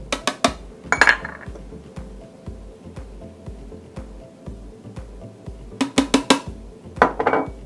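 Vegan burger patty mixture stirred in a bowl, with sharp clinks and knocks of a utensil against the bowl in clusters at the start and again near the end, and quiet gaps between.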